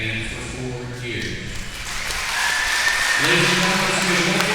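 Audience clapping for senior winter activity participants and their parents at a school event, a broad wash of applause that swells louder in the second half, with a voice talking over it.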